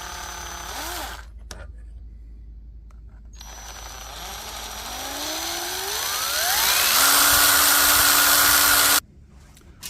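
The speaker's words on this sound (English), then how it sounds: "So let's get to drilling." A power drill bores a hole for a return spring on a 1965 Chevrolet Impala, its whine rising steadily in pitch as the motor spins up, then cutting off abruptly after several seconds of loud running.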